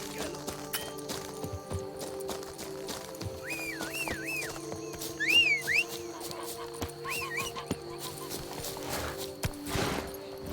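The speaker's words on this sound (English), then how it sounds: "Even a horse drops if you ride it at a constant gallop." A horse in The Witcher 3: Wild Hunt neighs several times over rhythmic galloping hoofbeats and a layered, synthetic-sounding background hum.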